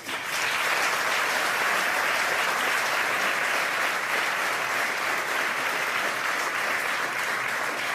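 Studio audience on a French TV show breaks into applause, a close, sustained clatter of many hands clapping that holds steady for several seconds without talk.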